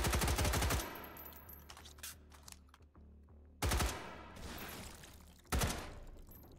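Video game gunfire from Hot Dogs, Horseshoes and Hand Grenades 2: rapid automatic bursts open the clip, followed by scattered clicks and handling sounds, then two more sharp bursts of shots.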